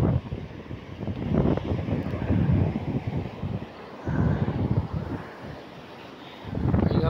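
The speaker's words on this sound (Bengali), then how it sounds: "তো ঢেউটা খুব বেশি এখানে" Strong wind gusts across a stone-embanked beach at New Tajpur near Digha, with sea waves breaking underneath; the roar is loud, rumbling and continuous, buffeting the microphone in surges throughout.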